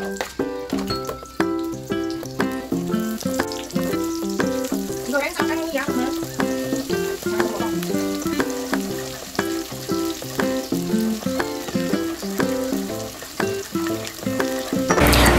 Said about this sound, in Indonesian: ini giliran untuk menggoreng bawang merahnya ya teman-teman